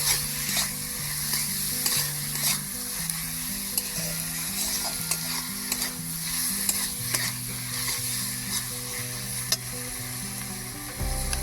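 Tomato stirred into a sizzling pan for cauliflower chili gives a constant close frying hiss with scraping strokes of a spoon, and low hum tones run underneath.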